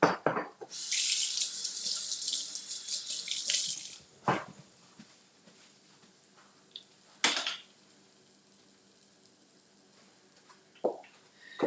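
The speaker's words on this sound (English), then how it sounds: "Wash my hands." A kitchen tap runs while hands are washed at the sink in a home cooking setting, a steady hissing splash for about four seconds, then short separate bursts of water further on with quiet gaps between.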